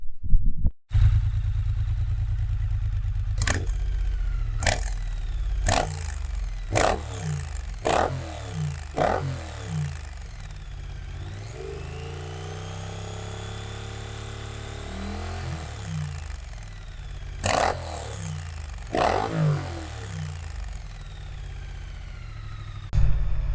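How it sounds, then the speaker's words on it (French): A 2021 Triumph Street Twin A2 motorcycle engine idles with a low rumble, then revs sharply several times in quick bursts, loud and close, with no talking. "Je vais vous faire écouter la sonorité de la moto."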